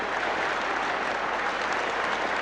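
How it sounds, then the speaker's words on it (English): A large cricket crowd at the Melbourne ground gives a standing ovation, dense steady applause filling the whole stretch, loud and even with no break. "Everybody here is standing up to give him a tremendous ovation as he comes back to the pavilion"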